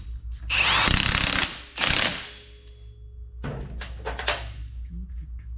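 Ratcheting mechanical clicks from tightening a new 28 mm nut on a Polaris Ranger front CV axle, two loud bursts of rapid ratchet action close by, then quieter scattered clicks and handling noise.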